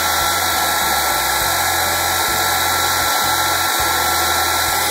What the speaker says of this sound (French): j'utilise mon pistolet à chaleur pour fondre et j'incline légèrement pour bien coller les fleurs dans la cire